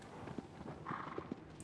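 Horse hooves clop in a walking rhythm in the video game Shadow of the Colossus (2018), a handful of soft, distinct hoofbeats at moderate distance over a quiet ambient background.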